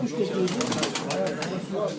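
Pigeons cooing in a loft during pigeon betting, soft repeated low coos close by, with men chatting over them and a brief flutter of wings.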